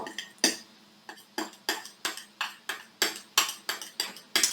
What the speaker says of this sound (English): I'm going to take my spoons and stir each of these up